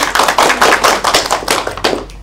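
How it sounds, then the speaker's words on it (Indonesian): Students in a microteaching classroom clap together in a brisk, fairly loud burst of separate hand claps that thins toward the end, with no talking. "Tepuk tangan dulu dong."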